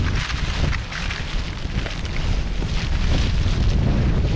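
Wind and rain outdoors in a rice field during seedling pulling, a loud steady roar of gusting wind buffeting the microphone with broadband rushing noise throughout, no voices.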